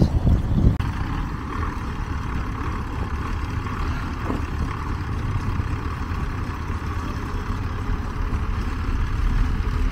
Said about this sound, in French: ils ont attaché les deux tracteurs ensemble